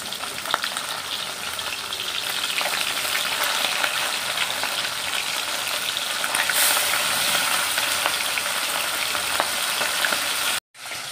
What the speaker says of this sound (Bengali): মাছে নুন হলুদ মাখিয়ে মাছ ভাজা শুরু হয়ে গেছে